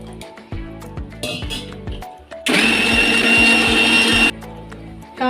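Coconut is ground for coconut milk for chicken biryani: a few clinks and taps of kitchen handling, then a loud, close blender whirs for about two seconds before stopping.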